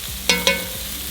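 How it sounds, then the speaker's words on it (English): Garlic goes into a pan of butter and onions for sherry cream mussels, giving two quick stirring scrapes over a steady soft sizzle. "Now we go in with our garlic."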